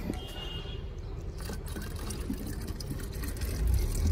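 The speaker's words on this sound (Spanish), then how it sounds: "Pura pulga de agua y después completo con agua." Water full of water fleas being poured into a container, a steady close trickling and splashing that grows fuller toward the end, with no talking.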